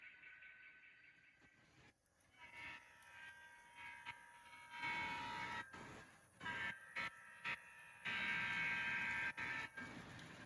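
A model railroad train runs with a steady mechanical rolling hiss that rises and drops in short bursts, quiet and close, with no voices.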